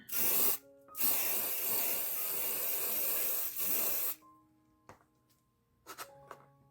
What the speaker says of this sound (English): I have my box lid ready, and I will just move it over there as soon as I get it sprayed